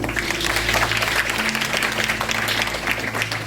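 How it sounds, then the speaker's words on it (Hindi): Loud, sustained applause for a young woman named Anamika at a women's empowerment camp inauguration, a dense crowd clapping steadily with a low hum beneath. "अनामिका के लिए जोरदार तालियां"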